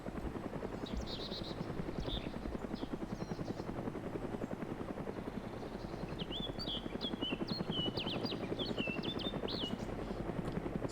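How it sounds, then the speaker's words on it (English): In the video game DayZ Epoch, a helicopter flies in, its steady rotor chopping throbbing without a break, moderately distant and fairly quiet, with faint chirping higher sounds over it. "There's a fucking heli coming in now as well."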